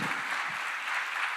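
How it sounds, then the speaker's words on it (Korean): A church congregation at a youth Sunday worship service claps to welcome a missionary, a faint, steady wash of applause heard from a distance with no voices. "우리 환영의 박수로 맞이하도록 하겠습니다."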